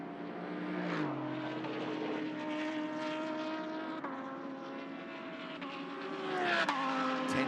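GT race cars, including a Ferrari and an Audi, circling Queensland Raceway, with engines droning steadily at close range, pitch sliding down and back up as cars pass and shift gears, and a continuous loud mechanical whine.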